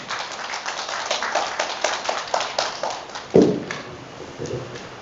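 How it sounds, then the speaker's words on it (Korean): Audience at a poetry recital in Suwon clapping warmly, a dense stream of many hands with one sharp louder clap near the middle, the applause thinning toward the end. "뜨거운 박수 부탁드리겠습니다."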